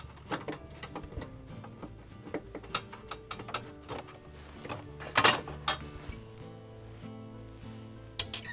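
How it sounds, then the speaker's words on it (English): A ratchet clicks in short, irregular bursts while backing out two 1/4-inch hex head screws from a Jenn-Air refrigerator dial, with one sharper metallic rattle partway through; the sounds are fairly faint and close. "Remove the dial by taking out 2 1/4 inch hex head screws here and here."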